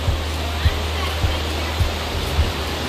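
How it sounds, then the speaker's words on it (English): An indoor waterfall at the Gaylord resort in Tennessee pours with a steady, close, full rushing roar, with soft low thumps recurring about every half second beneath it. "But this waterfall right here is just beautiful."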